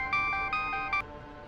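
A phone on speakerphone rings with three short bright electronic trills in quick succession, close and clear, before it stops.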